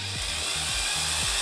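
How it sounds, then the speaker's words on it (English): A power drill whirs loudly and steadily as the bit bores through the plastic air restrictor post of a Nerf Star Wars Sith Trooper toy blaster, its pitch dipping briefly a few times under pressure. "I'm going to drill out that post, aka the air restrictor here."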